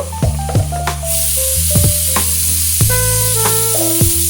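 Turmeric and chili powder frying for bagara rice, a loud sizzle that swells into a bright hiss, with a metal spoon repeatedly scraping and tapping the pan.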